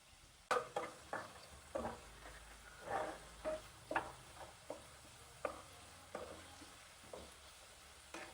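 Onions sauté with salt in a pan, giving a faint, close sizzle broken by a dozen or so soft scraping stirs at an uneven rhythm.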